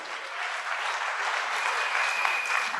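Congregation at a church worship service applauding in acclamation of the Lord, a dense, steady roar of clapping from many hands, loud and continuous throughout.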